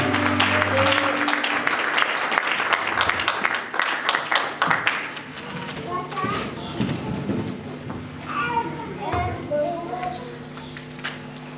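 A church congregation applauding and cheering to the glory of God, with dense clapping and shouts at the start that thin into scattered claps, voices and joyful cries, fairly loud and crowded.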